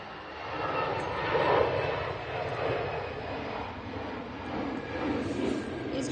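An EasyJet airliner departing Manchester Airport, its engine roar steady and moderately distant, swelling slightly, with a voice talking over it.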